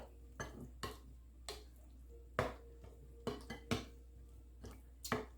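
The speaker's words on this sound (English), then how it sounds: "So we're stirring that up to this consistency." Spoon clinking and scraping against a bowl while stirring a bacon and tomato dip with garlic, a series of sharp close taps and clatters at irregular intervals over a quiet background.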